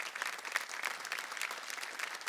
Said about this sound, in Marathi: एकदा जोरदार टाळ्या झाल्या पाहिजेत ताईंसाठी